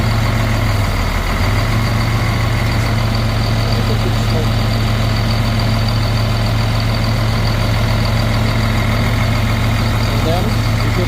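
A CAT 950H wheel loader's engine idles steadily after repair, a loud, continuous low rumble with a constant hum that holds unchanged throughout, with no talk over it.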